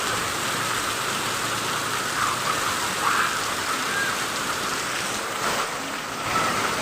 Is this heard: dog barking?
no